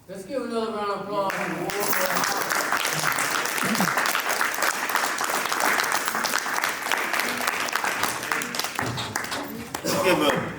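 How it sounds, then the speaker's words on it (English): Sustained audience applause fills a community screening event, dense clapping held steady for most of the stretch, with a voice speaking briefly at the start and again near the end. "Let's give another round of applause."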